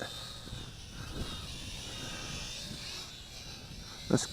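An HHD H3 RC FPV quadcopter drone flies with a steady, fairly faint whirring hum throughout, with a short thump near the end.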